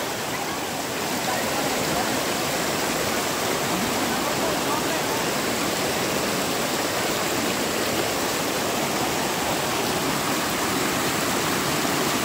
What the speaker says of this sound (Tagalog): Lakas ang agos.